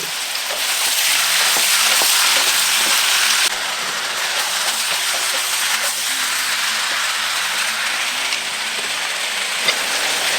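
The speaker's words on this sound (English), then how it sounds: "So I'm sauteing garlic and onions, and we're going to be browning our meat for about 10 minutes." Chopped garlic, onions and pork sautéing and browning in a pan, a dense, loud, steady sizzle like heavy rain that eases slightly partway through and carries on with small pops and crackles.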